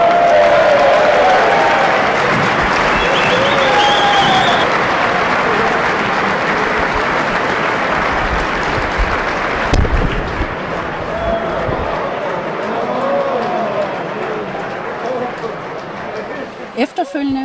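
A large indoor crowd of spectators at a European curling championship opening in Esbjerg applauds and cheers steadily as the first stone is delivered, a dense, sustained wash of clapping that fades slightly toward the end.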